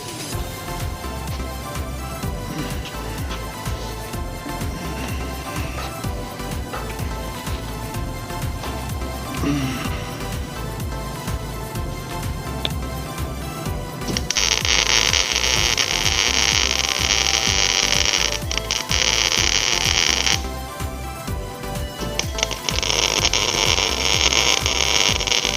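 Tack welding on a trailer frame: two bursts of loud, steady crackling buzz, the first lasting about six seconds and the second a few seconds later, over a constant low electrical hum.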